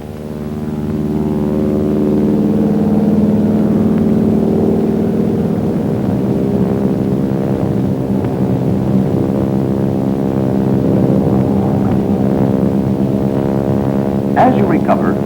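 Sustained, loud propeller-engine drone of a North American Aviation T6 trainer at full throttle during aerobatic loops, steady rich harmonic roar throughout with a narrator talking over it.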